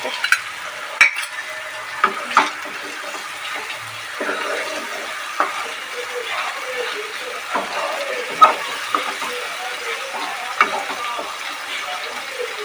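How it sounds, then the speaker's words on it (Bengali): Spice paste for Bengali doi katla sizzling and being stirred in a pan on a gas stove, a steady low frying hiss broken by scattered scraping clicks of the spoon. "মশলাটা আমাদের কষানো হয়ে যাচ্ছে।"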